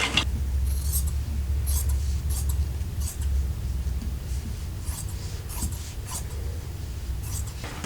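Scissors snip through fabric along a marked line while cutting strips for bias tape. Short crisp cuts repeat at an uneven pace over a steady low background hum, close by and with no talking.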